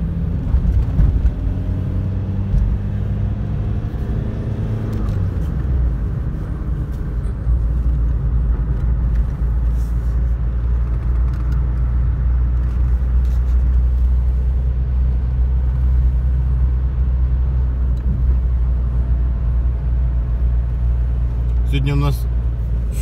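A car drives the road from Baden toward Vienna and Mödling in winter, a steady loud engine and road rumble continuing throughout, with a person talking over it.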